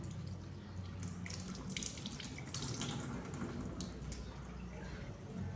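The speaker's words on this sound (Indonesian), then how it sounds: "Kemudian bilas dengan air bersih." Hands are rinsed under a running tap during handwashing before gloving, giving a steady, close rush of water splashing into a sink that continues without pause and with no talking.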